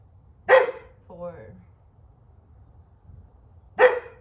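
A dog barks outdoors during an open-air yoga session, two sharp single barks separated by a pause, with a spoken count from an instructor between them.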